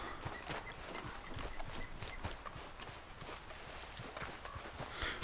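Horses in the Red Dead Redemption 2 video game clop along in a steady, continuous patter of hoofbeats, quiet and somewhat distant, with no voices.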